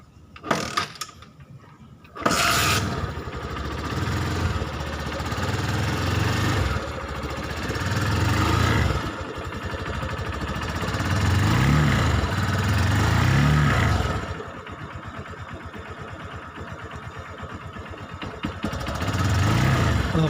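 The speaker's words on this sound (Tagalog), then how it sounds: "Hayaan lang natin na umadar yung makina para malubricate yung buong spare parts niya sa loob" A Honda TMX Supremo motorcycle engine idles steadily with a mechanical, rattling hum, near and fairly loud, after a few sharp knocks at the start; no talking.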